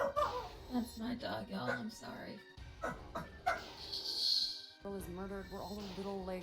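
A streamer's pet dog barks and whimpers briefly in the background, partly masked by ongoing talk from the streamer over game music.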